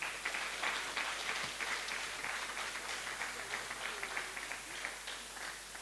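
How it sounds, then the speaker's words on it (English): Applause from an audience at a speech event sounds as a steady, moderately faint patter of many hands clapping, sustained evenly and heard from some distance. "Can we give her a round of applause?"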